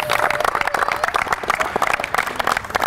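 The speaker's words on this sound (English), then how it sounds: "Give her a round of applause for being the first dual sport." Crowd applause honoring a tennis senior at a Georgia Gwinnett College Senior Day, a brisk patter of many hands clapping at close range with a few voices mixed in, steady for a few seconds.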